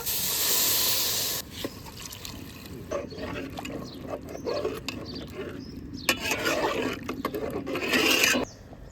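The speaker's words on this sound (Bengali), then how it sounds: "এখন আমি চালের মধ্যে গরম পানি দিয়ে দেব।" Hot water is poured into a pot of sautéed rice for egg pulao, setting off a loud, harsh sizzling hiss that drops away, then flares up again before cutting off.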